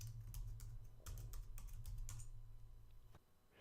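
Keys on a computer keyboard clatter in quick bursts of typing, close and clear over a low steady hum, slowing to a final single keystroke.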